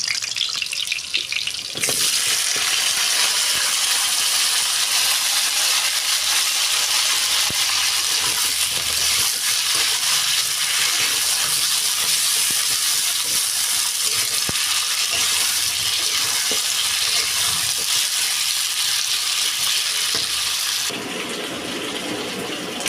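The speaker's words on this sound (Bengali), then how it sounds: "তেলটা গরম হয়ে যাওয়ার পর আলুগুলো ছেড়ে দিলাম আমি এতে" Potatoes frying in hot mustard oil in a kadai give a loud, dense, steady sizzle that runs almost unbroken, close to the microphone and without speech.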